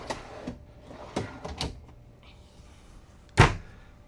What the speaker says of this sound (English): Got some pull-out drawers back here.